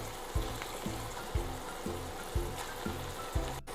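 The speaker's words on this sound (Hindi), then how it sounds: "अब इसको एक एक करके पलट देंगे दूसरे साइड फ्राई होने के लिए।" Paneer cubes sizzle in hot oil while being turned one by one to fry the other side; a steady crackle runs throughout, punctuated by regular low thumps.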